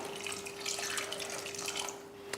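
Water runs steadily into a pressure cooker holding tomatoes, toor dal and turmeric powder, a close continuous pour with a faint hum beneath.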